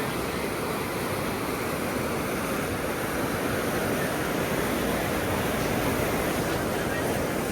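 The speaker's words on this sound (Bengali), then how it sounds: "এই পানিগুলা ঝর্ণার পানি," Waterfall water rushes along a canal in the Swiss Alps, heard as a steady, dense, broadband roar of flowing water, close and continuous without breaks.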